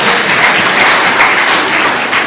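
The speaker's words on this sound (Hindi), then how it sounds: "परमेश्वर की जोर से ताली बजाइए" A church congregation at a Palm Sunday service claps loudly together, a dense, steady wash of applause that holds evenly for a couple of seconds.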